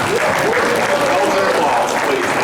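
Audience clapping at a Sunday school breakfast gathering, a loud, dense, continuous burst of applause from a room full of people, with a voice speaking faintly over the top.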